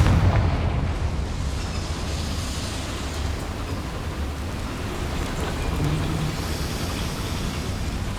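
A Confringo blasting spell firing in Hogwarts Legacy gives a booming, rumbling explosion at the start, then a sustained low roar and crackle with a second swell of noise partway through and no voices.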